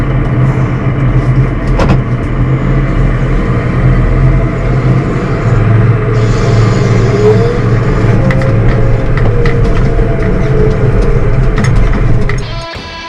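A Deutz Fahr 8280TTV Warrior tractor drives along with a loud, steady engine drone and road rumble that hold for about twelve seconds before cutting off abruptly.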